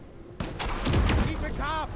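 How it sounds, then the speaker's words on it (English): Gunfire in the tactical video game Menace bursts in abruptly, a loud crack followed by a rumbling, crackling tail that fades out after about a second and a half. "the gunshots reveal you on the map to the enemy until they move"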